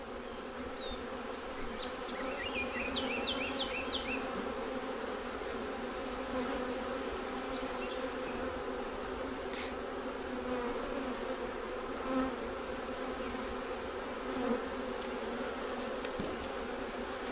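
Honey bees hum continuously around an opened hive showing capped brood and honey, a dense steady buzz of many insects close by, with faint bird chirps in the background.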